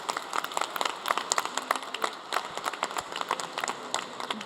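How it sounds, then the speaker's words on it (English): An audience at an education conference session claps in a steady, moderately loud round of applause, many hands patting unevenly with no talking over it. "what we should use that for is a round of applause"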